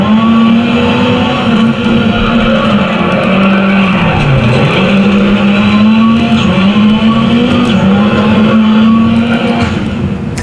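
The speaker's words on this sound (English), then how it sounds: "Hear those brakes screaming." A loud, continuous squeal of tires and brakes over a roaring rally car engine in the game Dirt Rally, its pitch wavering up and down throughout.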